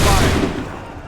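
Assassin's Creed 3 video game musket volley: a loud, dense crack of many muskets firing together, then a fading rumbling tail over about a second.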